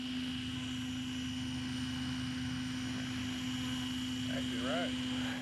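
XLPower 550 RC helicopter in flight, its steady high-pitched rotor and motor whine holding constant and fairly close throughout, with a person's voice briefly audible near the end.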